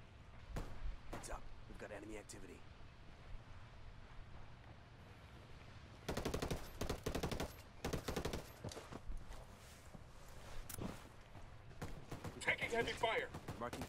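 Gunfire in Ghost Recon Wildlands, with bursts of rapid automatic shots from close by, sharp single cracks and sustained volleys in a busy firefight, mixed with speech.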